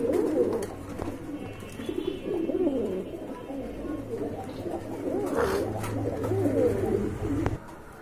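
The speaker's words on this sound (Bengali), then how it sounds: "এখানে কিন্তু আরেক জোড়া কবুতর দেখতে পাচ্ছেন" Big Indian Mumbai pigeons at a pigeon seller's coo continuously in low, rolling throaty calls, close and steady, with faint background noise and no clear talk.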